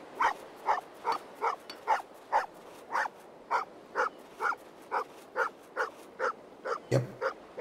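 A dog barks in the video game An English Haunting, about sixteen steady, evenly spaced barks close to the listener, with no talking over them.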